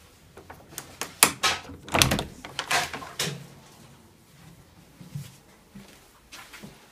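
A house front door opening and closing, heard as a run of close, sharp clunks, latch clicks and thuds in the first few seconds, then quieter rustling and shuffling afterward.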